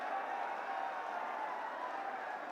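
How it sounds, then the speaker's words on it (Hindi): Dense, steady crowd applause fills a political rally in Nuh, Mewat, a sustained wash of many hands clapping at an even level with no pauses. "हाथ उठा करके सब तालियां बजाते रहें जब तक।"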